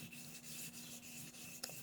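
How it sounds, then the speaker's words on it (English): A straight razor's bevel being ground on an 8000 grit whetstone: a quick series of soft, even rasping strokes in a regular back-and-forth rhythm, faint and close. "ironically, I have to use the highest grit that I have to grind the bevel."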